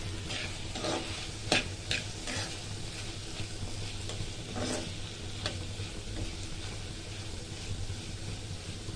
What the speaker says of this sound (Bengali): এটা ভালো করে একটু কষে কষাবো কিছুক্ষণ